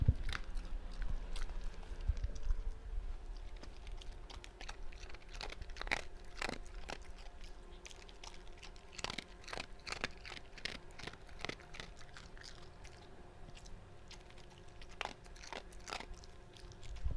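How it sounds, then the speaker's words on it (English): An animal chews food right at the microphone, a close series of crisp, crunchy bites and mouth clicks in an irregular rhythm that runs throughout with no talking. "These are pristine mechanical chewing sounds coming straight from the beast's mouth."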